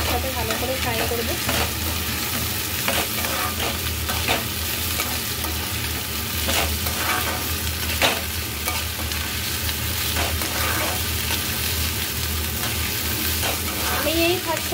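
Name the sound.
potatoes frying in a pan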